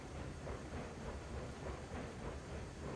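A train labouring up a 2% grade in the railway game Railroads Online: a steady, dense rumble with a faint rhythmic chugging pulse throughout, no talk.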